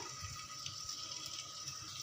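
Water pours into a pot of drumstick (moringa) curry gravy, a steady close splashing rush that lasts about two seconds with no voices.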